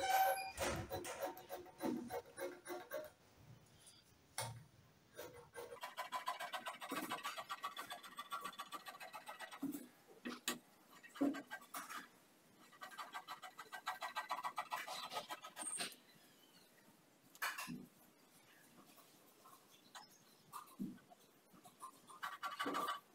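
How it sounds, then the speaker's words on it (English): Scissors cut fabric on a table for a cowl neckline top, giving faint, intermittent snipping and scraping in short bursts with quiet gaps, fairly close but soft. "So I'm going to cut."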